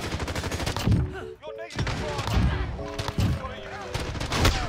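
Rapid bursts of video game gunfire on the Shipment map in hardcore mode, dense, loud and overlapping, with voices talking in between.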